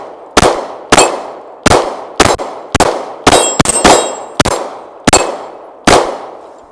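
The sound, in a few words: Kiger 9C Pro pistol shots ringing steel targets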